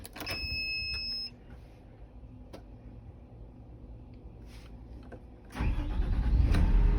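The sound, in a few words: John Deere 210G LC excavator engine starting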